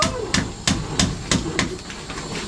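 A hammer pounds wood while a chair is built, landing about six sharp, evenly spaced blows close by with a bright knock on each strike.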